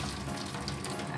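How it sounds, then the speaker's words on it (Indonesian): Water pouring and draining off blanched vegetables, a steady, close rushing splash that stays even throughout the short moment. "kita langsung tiriskan ya airnya"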